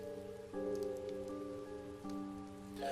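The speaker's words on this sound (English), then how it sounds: "The only sound in the alley was the sound of the rain." Rain falls steadily in an alley scene from the visual novel game Chaos;Child, a soft constant patter layered under sustained low musical tones, with no voices.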